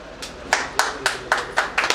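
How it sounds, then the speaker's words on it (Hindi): Audience at a hospital event in Naugachiya clapping in a slow, regular rhythm, about seven distinct claps close by, with no talk over them. "जोरदार तालियों से अभिनंदन।"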